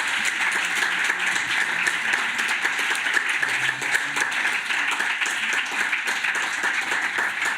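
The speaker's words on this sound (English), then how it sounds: "please give a warm applause to our" Sustained, dense applause from an audience at the close of a panel session at the Connecting EU 2021 conference, steady and even throughout with no pauses or speech.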